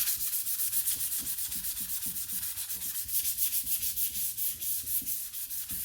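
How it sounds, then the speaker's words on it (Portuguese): By hand, 400-grit sandpaper is rubbed against a piece of wood in steady, quick back-and-forth strokes, a close, continuous rhythmic scratching with no talk. "Então eu vou ver com a minha lixa número 400."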